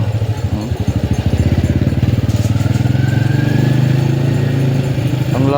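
A motorcycle engine runs close by with a steady, rough pulsing throb, its rhythm slightly uneven as if the engine sounds cracked, holding level for several seconds with no talk over it.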